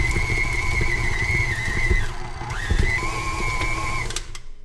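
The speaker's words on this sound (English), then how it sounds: "I'm gonna try to soften it a little bit more in the KitchenAid." A KitchenAid stand mixer whirs loudly as it works butter. The motor hums steadily, dips in pitch for a moment, then recovers before winding down near the end.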